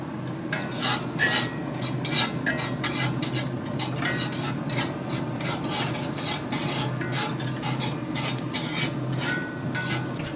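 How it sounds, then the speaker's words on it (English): Butter sizzles steadily on a Louisiana Grills LG800 Founders Legacy sear plate over open flames, with repeated scraping and stirring clinks of a utensil on metal throughout, no talking. "I will melt the butter over the flames"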